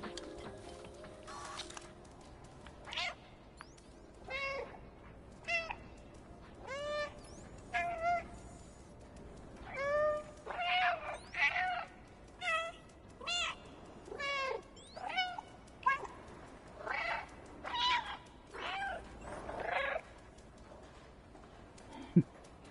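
A cat meows over and over in a video game, a run of distinct mid-loud meows spaced a second or two apart across a steady low background.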